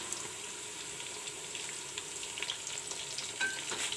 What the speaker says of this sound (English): Now I will put in the tomatoes.